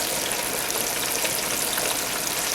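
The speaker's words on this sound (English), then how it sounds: "Get our thighs a cooking." Chicken thighs fry in hot oil for KFC-style chicken, making an even, dense sizzle that holds steady throughout.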